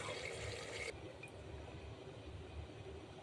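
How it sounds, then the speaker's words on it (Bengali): Water splashed into a pot of browned chicken pieces and potatoes: a brief faint pour at the start, then only a low steady rumble from the stove. "তারপরে একটু জলের পানি দিয়ে দিয়েছি।"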